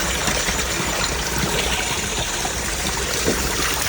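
Hot spring water flows out along a hillside, a steady, broad rushing and trickling wash close by with no pauses and no voices.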